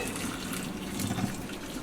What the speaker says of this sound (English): So we're just going to pour our spinach into a strainer,